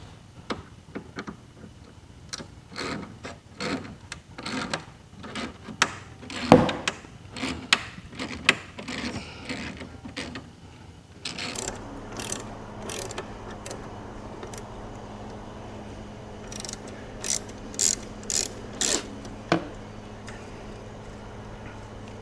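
A socket ratchet turns a bolt during radiator removal work on a 1999-2006 Silverado, giving a run of sharp, evenly spaced clicks up close, followed by a quieter stretch with a few more isolated clicks.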